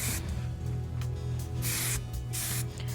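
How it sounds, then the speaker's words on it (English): Several short hisses of hairspray in quick bursts, close to the microphone, over a low steady hum. "finish it off with a little bit more of a light spray"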